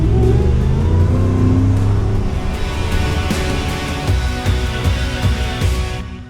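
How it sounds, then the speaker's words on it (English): A 2019 Ford Shelby F-150 Super Snake pickup with a supercharged engine and Baller Performance exhaust, revving hard with a deep exhaust rumble and rising whine, loud and close, with no talk. "Add in the whine of the supercharger and the deep rumble of the Baller Performance exhaust"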